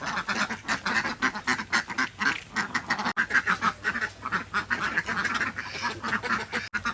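A small flock of about twenty domestic ducks, given medicine in the morning, quacks continuously and close by, in a busy, rhythmic chorus with no talking.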